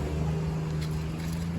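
A motorcycle engine with a parrot perched on the bike hums steadily and loudly at close range, with no talk over it.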